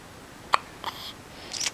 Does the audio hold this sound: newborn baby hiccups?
yes